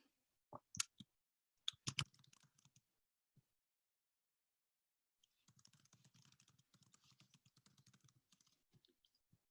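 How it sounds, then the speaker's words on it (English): Quiet keystrokes on a computer keyboard arrive in short clicking bursts, a pause, then a longer run of steady typing. "I'm typing mine, so you might hear me type as well."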